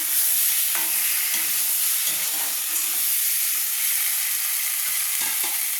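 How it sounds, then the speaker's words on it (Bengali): Prawns sautéing in a pan for prawn malai curry give a steady, close sizzling hiss of frying in oil, with occasional soft stirring scrapes throughout. "একটু ভালো করে কষিয়ে নিচ্ছি।"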